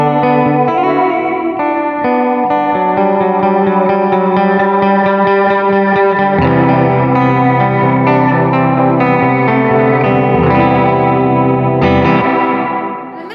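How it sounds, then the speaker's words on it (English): A Jazzmaster electric guitar plays chords and a steady strummed rhythm through a Walrus Audio R1 pedal on its plate reverb setting with pre-delay, giving a loud, lush, shimmering wash that sustains throughout and fades at the end. "I don't like a lot of pre-delay with my plate reverb."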